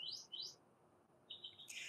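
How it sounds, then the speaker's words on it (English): Small birds chirping in a sunny garden in the morning, a few short rising tweets near the start and more calls toward the end, fairly faint and alone with no talk. "and the birds chirping"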